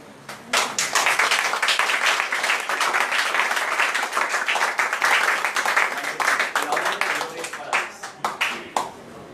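A room full of people at an Alcoholics Anonymous group talk claps steadily for several seconds, a dense, even applause that thins out toward the end.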